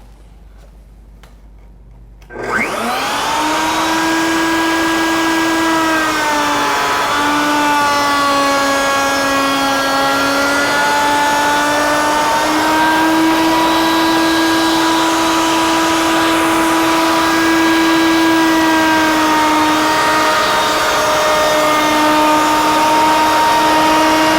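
A router spins up abruptly and runs at a steady high whine while cutting wood for Greene & Greene breadboard end joinery, loud and close, holding a sustained tone with slight pitch wavers for over twenty seconds.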